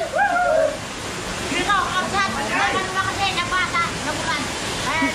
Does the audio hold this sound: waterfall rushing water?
yes